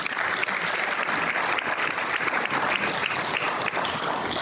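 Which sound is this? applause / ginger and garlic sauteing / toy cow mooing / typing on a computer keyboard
applause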